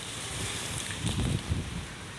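Wind gusts rush across the microphone, a low blustery roar that swells briefly midway before settling back to a steady breeze.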